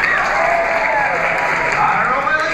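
An audience at a banquet breaks into steady applause as a vote, a dense even wash of many hands clapping at once, fairly close and sustained for the whole moment with no pauses.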